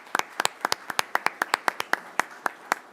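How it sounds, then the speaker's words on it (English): A small group claps at a city council meeting: sparse, crisp individual claps in an uneven, quick rhythm, fairly close and moderately loud over a quiet room. "And a round of applause to you,"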